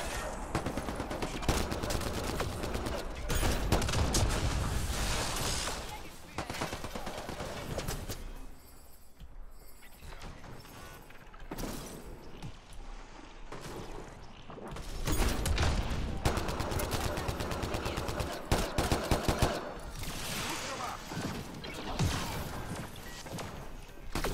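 Sustained bursts of game gunfire from Mass Effect Andromeda, loud and dense with rapid automatic fire, easing into a quieter lull midway before heavy shooting resumes.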